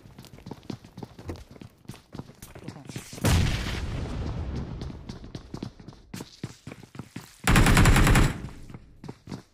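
Video game gunfire during a team shooter match: two sustained automatic bursts stand out loudly among scattered sharp shots and clicks, with quieter stretches between.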